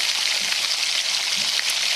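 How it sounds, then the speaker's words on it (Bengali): Chopped onion frying in oil with dried chilli and bay leaf for a pomfret tel jhal curry, a steady, bright, rain-like sizzle heard up close without pause. "পেঁয়াজ কুচি দিয়ে ভেজে আনবো, গোল্ডেন ব্রাউন করে নেব।"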